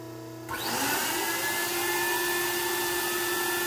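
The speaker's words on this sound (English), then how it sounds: "Now that the APU is running," Auxiliary power unit spinning up on a homemade hydrogen-powered turbojet, a sudden loud whirring onset that climbs into a steady, high whine with a sustained rumble beneath.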